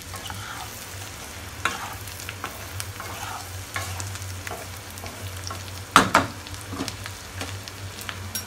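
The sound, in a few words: fried potatoes frying and stirred in pan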